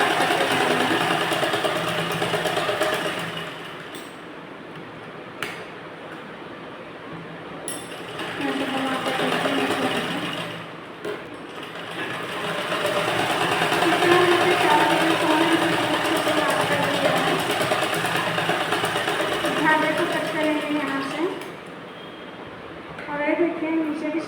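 A sewing machine stitches blouse fabric in a low, steady whirring hum that swells and eases in runs, with a person talking over it.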